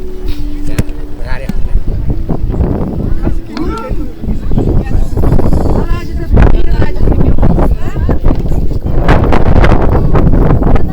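Strong gusty wind buffets the microphone throughout, roaring and fluttering, with voices partly buried beneath the noise.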